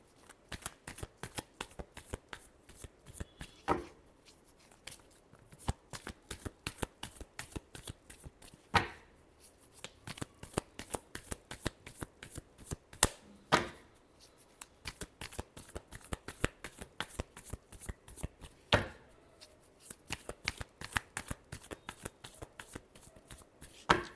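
A deck of tarot cards being shuffled by hand in a repeated riffle, crisp rapid fluttering bursts with short pauses between them, close and clear with no talk.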